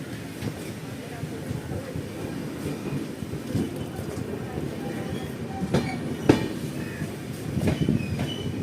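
Goa Sampark Kranti express passenger train runs along the track with a steady rumble, rhythmic wheel clatter and occasional squeals, heard from inside the coach.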